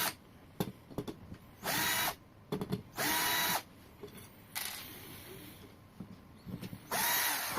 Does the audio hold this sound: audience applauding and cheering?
no